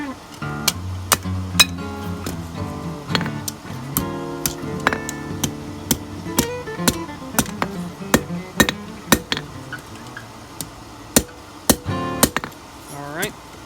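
Hammer blows ring out on a hot steel safety hook as its tip is brushed inward at the anvil, a steady series of sharp metallic strikes, some clustered in quick pairs, with talk in between.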